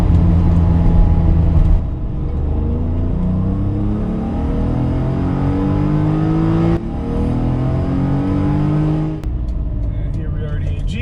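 A 1988 BMW E28 M5 accelerates on a road loop, its loud, close inline-six engine rising repeatedly through the revs with clear breaks at each gear shift.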